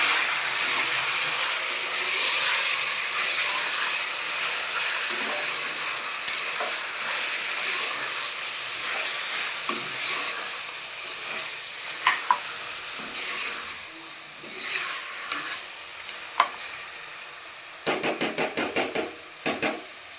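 Mutton curry stirred in a pot, with a steady loud sizzling hiss throughout and occasional spoon scrapes and knocks, ending in a quick run of sharp clattering taps against the pot.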